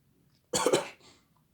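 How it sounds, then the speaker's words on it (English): A person coughs sharply and close once from inhaling sprayed chemicals, followed by a softer second cough, with quiet room tone before and after. "I'm coughing a little bit."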